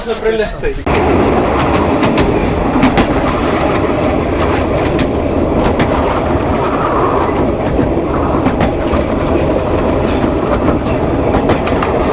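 A narrow-gauge children's railway train rolls along the tracks nearby, a loud, steady rumble with rhythmic clickety-clack and faint wheel squeal throughout. Voices can be heard over it.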